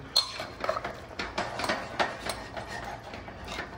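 Spoon scraping and clanking against a pot while grated coconut is mixed lightly into a pressure-cooked chicken curry, a steady run of close metallic knocks and scrapes with no talk.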